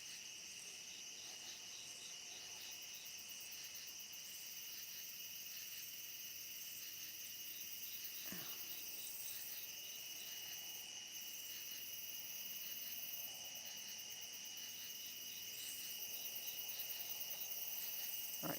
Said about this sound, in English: Can y'all hear the frogs and crickets?